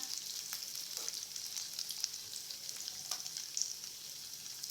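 Curry leaves fry in hot oil for sabudana khichdi, giving a steady, bright sizzle with scattered crackles and pops, heard alone and close.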